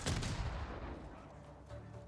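Explosions in Ghost of Tsushima, heard as a heavy booming blast with a deep rumbling tail that fades over two seconds, loud and close.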